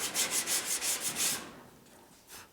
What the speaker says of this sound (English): you just want to have something you can sand over the top of this that's flat